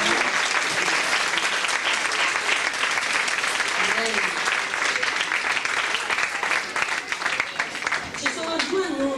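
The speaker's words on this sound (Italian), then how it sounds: "fare un applauso di benvenuto a un personaggio." A church congregation at a baptism service bursts into dense, sustained applause of welcome, steady and loud throughout, with faint voices mixed into the crowd noise.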